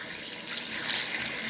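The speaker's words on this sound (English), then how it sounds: "you touch that and it's got a sensor and it puts out water" Water runs steadily from a sensor-operated sink tap in a hospital ward bedroom, a soft, even splashing stream heard close and alone.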